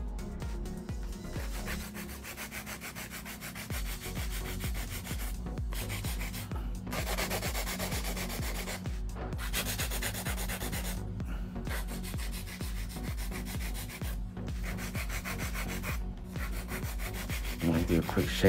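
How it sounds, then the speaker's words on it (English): A nail file is worked by hand across fingernails in quick, even strokes, a close, soft rasping scrape that repeats steadily with brief pauses, heard alone without talk. "This is hand filing."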